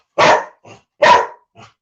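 Cooper, a house dog, lets out two loud, close barks about a second apart, each followed by a softer short echo-like yelp, with no voices.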